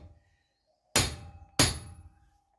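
A hammer drives a part into a loader hydraulic cylinder on a Massey Ferguson GC2310 tractor. Two sharp, loud metallic blows land about half a second apart in an otherwise quiet space.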